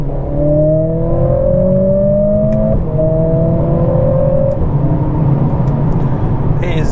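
Close, loud in-cabin roar of a 2022 Mercedes CLA45s pulling hard in first gear, the engine pitch sweeping upward, dropping sharply at a quick shift, then climbing again.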